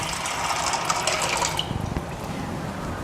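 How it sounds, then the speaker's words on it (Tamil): Water pours into a pot holding pasta shells for boiling, a steady splashing fill that shifts to a deeper gurgle midway, heard alone without talk. "போட்டு நம்ம அதில் தண்ணி வேணுங்கிற அளவு ஊற்றி வச்சுக்கலாங்க."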